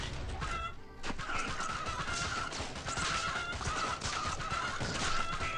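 Chickens under attack in Swamp Attack 2 squawk and cluck in repeated frantic bursts over busy game effects and crashes, loud and continuous throughout.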